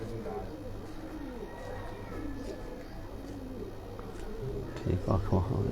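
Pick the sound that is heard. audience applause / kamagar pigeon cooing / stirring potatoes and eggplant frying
kamagar pigeon cooing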